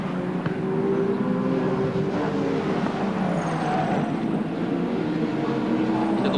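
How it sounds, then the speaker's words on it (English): Onboard a Benson and Hedges BMW M3 touring race car at Eastern Creek, the engine drones loud and steady from the cockpit, its pitch wavering slightly as the car takes corners. "Tony Longhurst, the Benson and Hedges BMW M3 carrying our Castrol Racecam"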